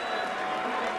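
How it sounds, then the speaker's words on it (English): A crowd at a heavyweight boxing match at Caesar's Palace applauds and cheers, a dense, slightly distant wash of clapping and crowd noise in a brief burst. "a round of applause for 2 warriors in the heavyweight division"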